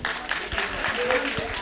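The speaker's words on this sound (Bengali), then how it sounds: "সবাই আমন্ত্রণ টিভির জন্য একটা জোরে করতালি" Audience clapping at a school event, a continuous spread of hand claps from a group with scattered louder individual claps, steady throughout.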